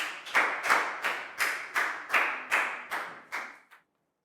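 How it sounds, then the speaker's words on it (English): A Year 4 class claps together in a steady, unison rhythm, about ten sharp beats roughly half a second apart, fairly close and clear, ending abruptly with no talking. "a big round of applause for Prel, please, guys"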